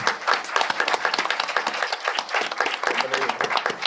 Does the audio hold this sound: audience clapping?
yes